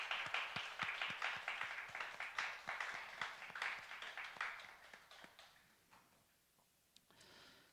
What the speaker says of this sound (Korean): 한번 박수로 격려 한번 합니다